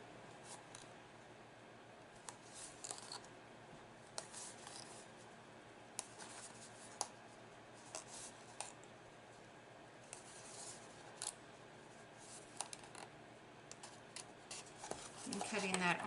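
Scissors cutting along the top edge of paper for a small paper basket craft, soft close snips and rustles in an irregular rhythm, with a louder paper rustle at the end.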